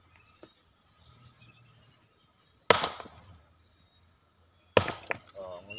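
A hammer strikes stone to split it on a riverbank building site where rock is broken for a retaining wall; two sharp, loud, ringing impacts, a couple of seconds apart, over faint background voices.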